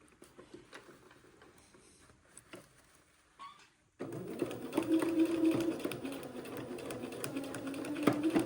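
A domestic sewing machine stitches a side seam on an Eton suit, its needle chattering in a fast steady whir that starts abruptly after a few quiet seconds of small handling noises and runs on close and continuous.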